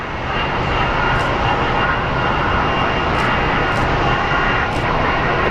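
Southwest airliner being pushed back from the gate at Phoenix Sky Harbor airport, with a steady, loud broadband engine roar that holds constant throughout, no voices.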